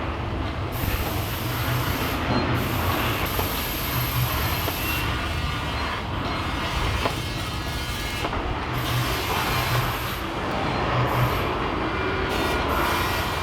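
A loud, continuous rumble and rattle of a theme park ride train at Universal Studios Hollywood rolling along the track, with a steady roaring clatter and no voices.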